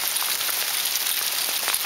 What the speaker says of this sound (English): Look at all the hail on there now.